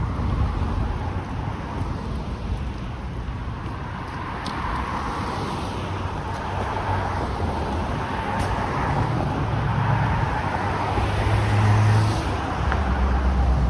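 A car passes along Yonge Street in midtown Toronto: a continuous low road rumble and tyre hiss that swells gradually toward the end, with wind buffeting the microphone.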